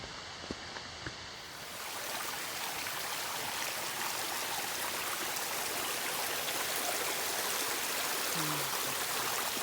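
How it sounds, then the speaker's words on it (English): A small stream flows along a wooded hiking trail in Alabama's Green Mountain Preserve, its steady broadband rush of water filling the scene after a quieter first second or two, close and continuous with no talk. "Kind of a cute little stream here."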